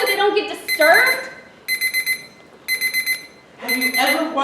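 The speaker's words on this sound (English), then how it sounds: "something as menial as a phone alarm during a fake commercial" A phone alarm beeps in repeated bursts of rapid high-pitched tones, sounding loud and clear between stretches of speech.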